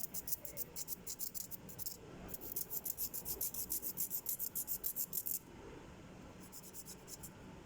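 A nail file rasps across fingernails in quick, rhythmic back-and-forth strokes, close and steady, with a couple of short pauses between runs.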